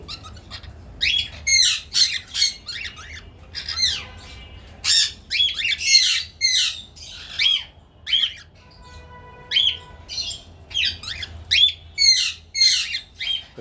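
Cockatiels, including a heavy pearl lutino female, give loud, harsh squawks and chirps in an aviary, the calls coming in repeated close bursts with short quiet gaps between them.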